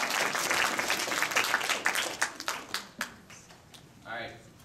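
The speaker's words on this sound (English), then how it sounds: "can we give him a round of applause?" An audience at a fundraising concert magic show applauds loudly at first, the clapping thinning to scattered claps before a voice begins speaking near the end.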